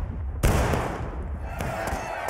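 Musket volley in the Civil War game War of Rights: a sudden loud blast of gunfire followed by scattered further shots and rumbling reports, with faint voices mixed into the noisy battle.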